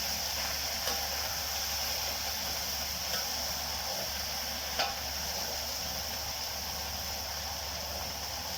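Spinach and anchovies stir-fry in a pan with a steady, soft hiss of sizzling, broken by a few light clinks of the utensil against the pan.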